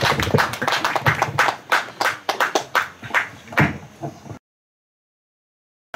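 An audience at a lecture during the 37th annual general meeting of the Yujonghoe society in Dudeul Village, Korea, breaks into applause, a dense burst of clapping for about four seconds that fades into sudden silence.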